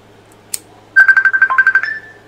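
A phone ringtone goes off, a loud run of rapid, evenly pulsing electronic tones lasting about a second, preceded by a faint click, with no talking.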